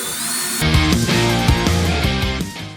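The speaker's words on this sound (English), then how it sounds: "So I'm just going to pre-drill a hole here, countersink the screw." A power drill bores a pilot hole into pallet wood for a countersunk screw. The motor whines up sharply, then runs as a loud, brief burst of grinding through the board, close to the listener.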